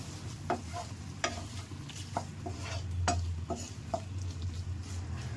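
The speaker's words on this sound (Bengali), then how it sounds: "এখন এগুলোকে আমি ভালো করে মিশিয়ে একটু ভালো মতন করে আমি ফ্রাই করে নিব।" Chicken with black pepper stirred and fried in a pan: a steady sizzle under repeated scrapes and clinks of a utensil against the pan, close by, with no talking.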